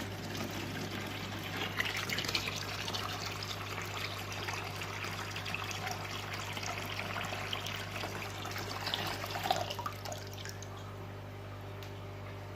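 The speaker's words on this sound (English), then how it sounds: "now we're filling up with a bit of tank water from a 1400 liter" Tank water from a 1400-liter tank trickles and pours steadily into an aquarium, a soft continuous splashing over a low steady pump hum, with no voices.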